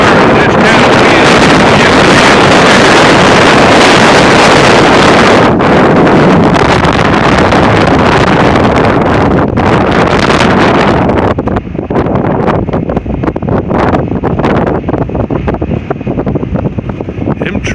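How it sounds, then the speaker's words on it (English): Strong windstorm in Oklahoma, gusting around 40 to 60 mph, roars in loud sustained blasts across the microphone, easing slightly toward the end. "Get a fire in this kind of wind."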